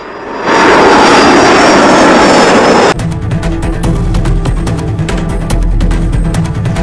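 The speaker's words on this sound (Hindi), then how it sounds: "ये विमान लैंड हुआ" A military aircraft carrying a captured president comes in to land, its jet engines roaring loud and steady before the sound shifts to a harsher, rattling rumble close by.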